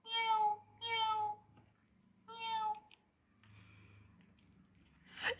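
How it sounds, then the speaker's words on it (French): Domestic cat meowing in several drawn-out, wavering calls, three distinct meows spaced close together, fairly clear and near, followed by softer breathy sounds. "Tiens, voilà le chat."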